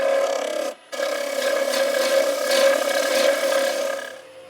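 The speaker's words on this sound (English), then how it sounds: "And now a lot easier to sort the inside out with a traditional bowl gouge" A traditional bowl gouge hollows the inside of a spinning walnut bowl on a lathe, giving a continuous close scraping, rasping cut that breaks off briefly near the start and then resumes until fading at the end.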